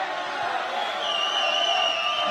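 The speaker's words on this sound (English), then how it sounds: "you can hear everybody cheering in the back" Crowd at a Team Combat League fight, a steady wash of cheering and whoops from a full arena with high whistles, filling the space at a moderate distance.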